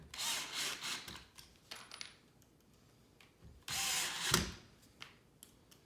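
A power drill drives screws into pocket holes in a wooden farmhouse shoe bench, with bursts of whirring drilling, a loud sustained run in the middle and clattering handling noises between.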